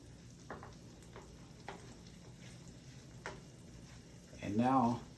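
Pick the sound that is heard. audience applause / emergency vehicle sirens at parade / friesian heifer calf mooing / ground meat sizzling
ground meat sizzling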